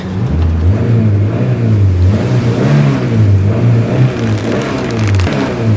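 A small 49-horsepower car engine strains and revs loudly and steadily, its pitch rising and falling in waves while it tows another car ashore.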